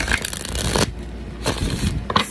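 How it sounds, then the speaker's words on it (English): A deck of tarot cards is shuffled close by in three quick riffling bursts, with short quiet pauses between them. "And I'm shuffling the wrong deck."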